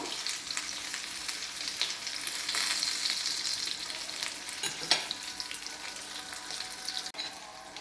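Cheese slices (halloumi, tulum or aged kashar style) fry in a pan with a steady, close broadband sizzle and crackle, alongside occasional stirring or utensil sounds and no talking.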